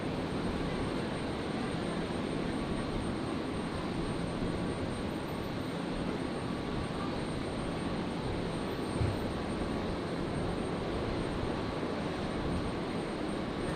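An aircraft lands on runway 01 left at Brisbane Airport at night, its engines a continuous broad roar that holds steady and fairly loud from start to finish, with no voices.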